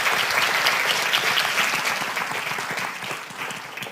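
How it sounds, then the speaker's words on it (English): Warm applause from an audience, a dense patter of clapping that gradually tapers off toward the end. "So give Lisa a warm round of applause."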